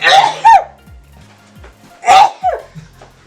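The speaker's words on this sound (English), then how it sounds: "we got your sneeze on camera" A single sharp sneeze, close and loud, followed a moment later by a second sneeze, with a quiet room between them.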